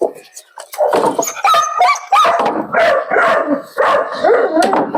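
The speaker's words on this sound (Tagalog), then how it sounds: "May palang aso dito." A dog barks at a pigeon loft during a visit, with repeated yips and barks scattered through the clip over people talking nearby.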